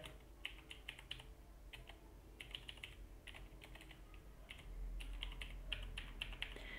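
Computer keyboard typing as a username is entered, with quick bursts of soft, close clicks separated by short pauses, alone with no voices.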